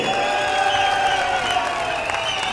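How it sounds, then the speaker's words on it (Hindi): At an election rally in Himachal, a crowd claps for a legislative assembly candidate, steady massed applause with some cheering for a couple of seconds. "जोर से ताली बजाओ सुधीर जी के लिए"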